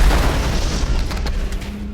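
A grenade blast in an action film, a loud, deep boom that rumbles and decays over about two seconds, with no talk.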